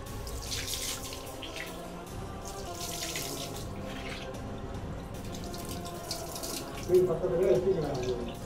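Milk poured over a stone idol in a roughly 1000-year-old temple sanctuary, a steady wet splashing and trickling stream running throughout, thickening into louder gurgling splashes near the end.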